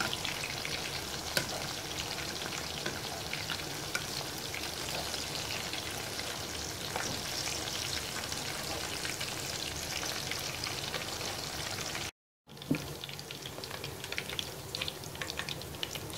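Chicken chapli kebabs fry in a pan with a steady, dense sizzle and crackle of hot oil, loud and continuous, broken by one brief silent gap near the end before the frying resumes.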